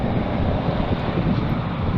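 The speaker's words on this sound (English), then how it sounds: "That's how windy it is." Strong wind roars and buffets against the microphone, a dense, continuous low rumble with no voices.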